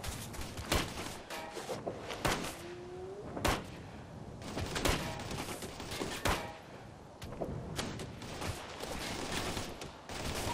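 Rapid bursts of rifle gunfire and sharp shots in the military shooter Operation Flashpoint: Red River, repeated cracks scattered across a busy battle soundscape with thumps and mechanical noises.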